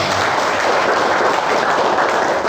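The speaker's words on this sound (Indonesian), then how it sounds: "boleh kita tepuk tangan semuanya." An audience at a Buddhist vihara dharma talk applauds as one, a dense and loud wash of hand claps that runs steadily through the whole stretch with no talking over it.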